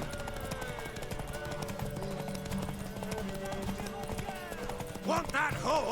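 A horse gallops in The Witcher 3 with rapid, steady clip-clop hoofbeats running throughout, mixed with game music and effects. A horse whinnies or snorts near the end.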